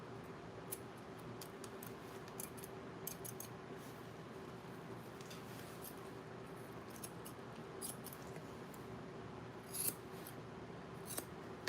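Scissors snip fur on a dog's paw during grooming, trimming around the pads and under the nail bed, giving faint, sparse clicks over a steady low hum in a quiet room, with no talking.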